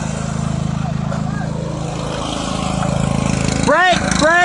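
A tractor engine idles and chugs steadily nearby while kids learn to drive it, a low, even drone. Voices break in near the end.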